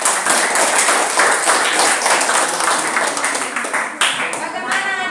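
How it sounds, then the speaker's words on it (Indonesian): Audience applause at the close of a student presentation on seaweed farming, dense steady clapping from many hands filling the room, with voices chattering underneath. "Ya, tepuk tangan."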